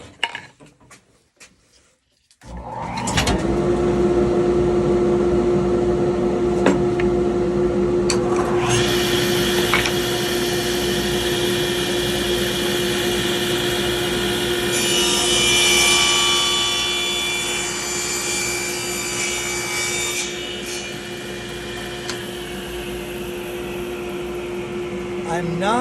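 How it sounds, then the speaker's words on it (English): Table saw cutting all the way through a wooden workpiece: the motor spins up to a loud steady whine, and the blade's pitch rises and rasps as it feeds through the wood. "I want to go all the way through on that cut."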